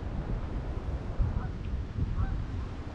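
Geese honk faintly and far off beside the Des Plaines River in Cook County, Illinois, with a few brief calls almost buried under steady outdoor wind noise.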